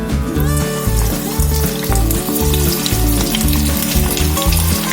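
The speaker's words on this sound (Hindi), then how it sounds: "फ्राई करने के लिए यहाँ पे हमने एक कढ़ाई ली है और तेल भी गर्म हो गया है, तो हम इसे डाल देते हैं।" Cabbage cutlets drop into hot oil in a kadai and fry with a steady, loud crackling sizzle. A rhythmic low thumping runs underneath throughout, and no one speaks.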